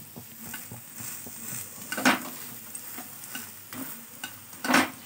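Chonge, a sweet jaggery flatbread, cooking in a pan over a low-to-medium flame, with soft steady sizzling broken by scattered scraping and tapping as it is handled, close by and moderately quiet.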